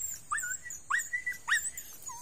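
A small Vietnamese native dog, about a year old and around 10 kilograms, whimpers in three high, drawn-out whines, close and alone in a quiet space.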